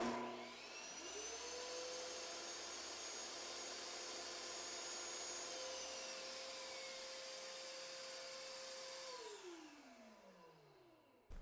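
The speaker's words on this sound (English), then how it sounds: "So if you listen, you'll hear the table saw," A workshop table saw hums steadily as a shop vacuum triggered by an automatic switch spins up alongside it, both running together as a sustained whine before winding down at the end.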